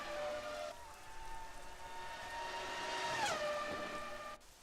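Rain falling on a Formula 1 car in tricky wet conditions at the Canadian Grand Prix, a steady hiss under a sustained engine whine that rises and sweeps down in pitch midway, then cuts off near the end.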